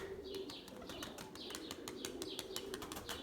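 Pigeons taking off and flying, wings beating in rapid, repeated claps, with soft cooing and chirps beneath; fairly faint and close by, with no voices.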